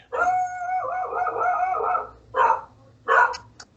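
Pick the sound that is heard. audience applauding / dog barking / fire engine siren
dog barking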